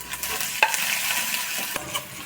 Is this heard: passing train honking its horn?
no